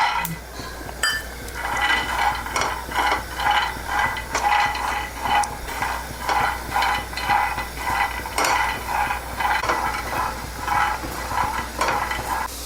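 Peanuts dry-roast in a pan, rattling and scraping in steady rhythmic strokes as they are stirred and tossed, close and continuous.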